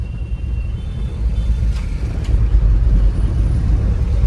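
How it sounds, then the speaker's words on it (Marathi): Evening road traffic jammed near a company gate, a steady low rumble of idling cars, buses and trucks with a brief air-brake hiss, continuous and close. "आता लागलेलं आहे ट्रॅफिक इथंच जवळ इथे कंपनी आली नेमकं इथं ट्रॅफिक लागली बघा"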